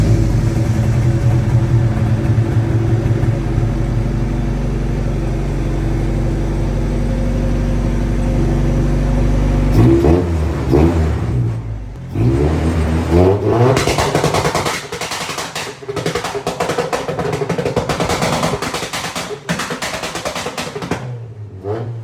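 The B18 engine of a mid-engine swapped Honda Civic EK drift car idles with a loud, deep drone, then is revved hard in repeated sharp bursts that rise and fall in pitch.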